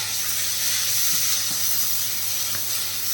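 Chopped tomatoes hit hot oil for a mutton masala, giving a soft, even sizzling hiss with a few faint clicks from the pan and no talking.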